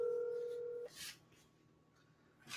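A phone call being dialed: a steady electronic tone, likely a dialing or ringback tone, holds for under a second, then gives way to faint clicks and low line noise, fairly quiet.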